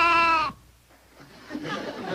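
A goat gives a loud, close, wavering bleat for about half a second, then quieter rustling and murmuring follow with no clear words.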